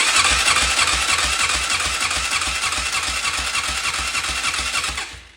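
Polaris Magnum 500 ATV engine, with a suspected fuel pump problem, cranking and running loud and close with a rapid, steady mechanical pulse throughout before cutting off abruptly at the end.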